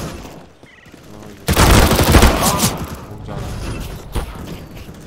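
A submachine gun in a Counter-Strike match fires one loud, fast burst of close shots lasting about a second, with quieter game sounds and a voice before and after.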